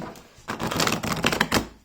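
A Jacob Jerger Besançon tarot deck is shuffled by hand, giving a short burst of rapid, close papery clicks and flutters after a brief quiet start.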